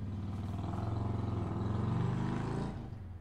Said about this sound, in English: somebody with the loudest motorcycle just drove by